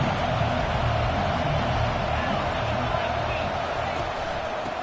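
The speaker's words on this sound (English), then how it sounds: "this crowd is fired up. Listen to this noise here." Steady roar of a fired-up football stadium crowd at an LSU game, a dense, continuous wash of cheering and babble held at even loudness throughout with no clear individual voices.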